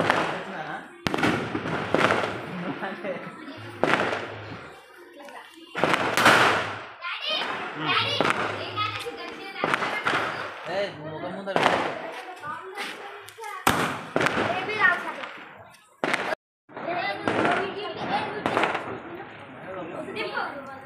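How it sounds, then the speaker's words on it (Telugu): Firecrackers burst repeatedly in sharp, loud pops scattered across the stretch, under constant excited chatter and shouting from children and adults. "మన రమణయ్య గారు బాంబు కాల్చేసిండు."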